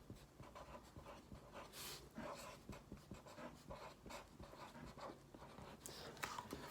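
Someone writes a title on a Venn diagram in a run of faint, quick, scratchy strokes that come in irregular bursts, close and quiet, with no clear talking.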